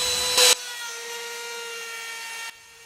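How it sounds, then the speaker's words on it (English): A power tool cutting trim on handmade coasters, a steady whining tone that runs for about two seconds after a brief loud burst at the start, then stops. "Now to cut trim on all of the coasters."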